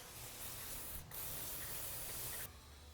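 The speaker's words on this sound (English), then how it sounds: "We'll spray all this oil off." A steady, loud aerosol spray hisses continuously for about three seconds, with a brief break in the middle, close to the microphone, cleaning oil off a KTM/Husqvarna WP rear shock.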